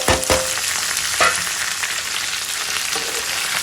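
Onion and pieces frying in a pan, a steady close sizzle running throughout with a few brief scraping stir sounds near the start.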